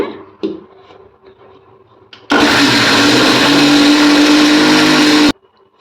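An electric mixer grinder grinds soaked rice, spices and a little water into dosa batter, a loud continuous whirring roar that starts abruptly after a few quiet kitchen knocks and stops sharply about three seconds later.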